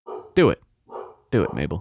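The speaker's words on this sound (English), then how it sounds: "my dog is barking" A pet dog named Mabel barks loudly and close, in two short bursts separated by a pause, while a voice speaks briefly in between.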